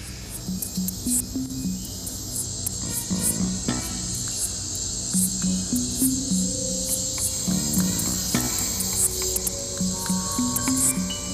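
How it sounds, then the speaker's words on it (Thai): A katydid calls for a mate with a continuous, shrill, pulsing buzz that holds steady throughout, close and clear over faint low background sounds. "และเมื่อตะกแตนส่งเสียงเรียกคู่"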